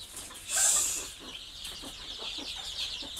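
Free-range country chickens on a poultry farm cluck softly and close by, one brighter call rising early and then settling into low murmuring clucks.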